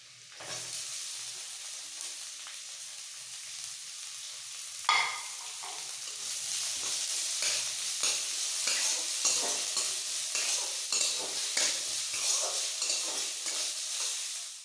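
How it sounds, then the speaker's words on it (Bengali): Chopped onion and lightly fried garlic sizzle steadily in a pan with a bright hiss, while stirring adds soft taps and scrapes that grow busier toward the end. "রসুনটা হালকা ভাজা হতে এবার আমি এর মধ্যে পেঁয়াজ কুচিটা দেবো।"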